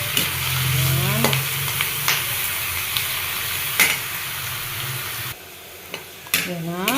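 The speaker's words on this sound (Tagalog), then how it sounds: "Continue sauteing or ayan, tuloy-tuloy ang pag-gisa natin. Hanggang yan ay mag-color brown." Chicken sautés in a pan for tinola with lemongrass, sizzling loudly while a utensil scrapes and stirs in several distinct strokes, the frying hiss dropping away briefly before stirring resumes.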